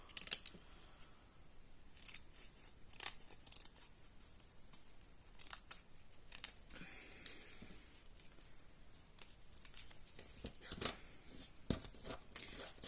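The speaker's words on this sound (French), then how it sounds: "je vais recouper là, je vais couper en biais" Scissors cut on an angle through thin craft material for a model produce-seller's truck, with repeated quiet snips and light rustling and crinkling of the sheet, close and soft, with no talking.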